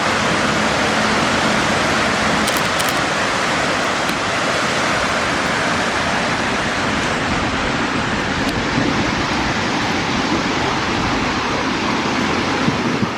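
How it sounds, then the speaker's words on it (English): Roaring waterfall at Gibbon Falls in Yellowstone, a steady, loud, broadband rush of falling water that holds constant throughout with no talk. "I hear the roar of the water."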